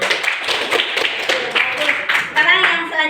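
Children in a classroom clap their hands together in a quick, steady burst of applause lasting a few seconds, fairly close, with a voice briefly audible near the end.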